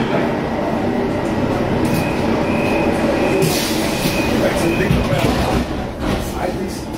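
A Munich S-Bahn class 420 electric train running as line S2 from Ostbahnhof toward Dachau: a loud, continuous interior rumble of rolling wheels and motor hum with faint squeals, under a voice announcement.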